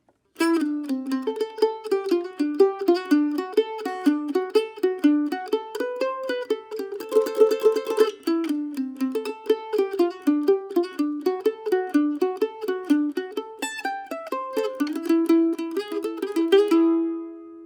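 Mandolin picking the short B section of a tune, a steady stream of bright plucked notes with a few tremolo passages, played solo and close with no voices, ending on a held note.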